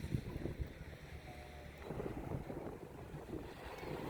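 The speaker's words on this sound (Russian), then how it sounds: "Такой ветер вообще холодный" Cold wind blowing at a seaside beach near Odesa, a steady broadband rush buffeting the microphone throughout, with low rumbling gusts and no voices.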